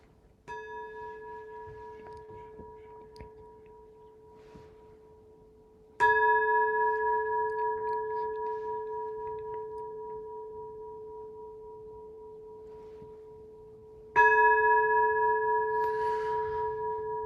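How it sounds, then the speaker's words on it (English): An ancient temple bell rings in a quiet space, one soft opening tap followed by two firm strikes several seconds apart, each resonating with a long, steady, slowly wavering hum. "The ancient temple bell"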